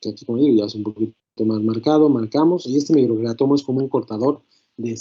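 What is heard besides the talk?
No everyday noises stand out.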